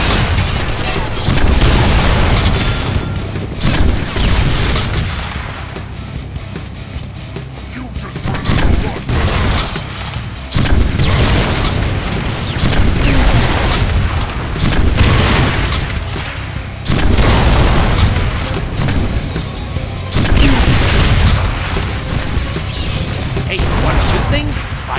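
Rocket launcher explosions in a Deadpool video game, heavy booming blasts and gunfire bursts repeating densely through the whole stretch, loud and continuous, with game voices mixed in.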